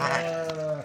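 A single bleat from a purebred Tatali sheep in a flock of pregnant ewes, a short wavering cry close by, heard on its own without talk.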